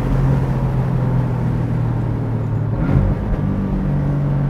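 Porsche 718 Boxster engine holding a steady, loud low drone while cornering, a continuous close rumble with a brief shift in pitch partway through.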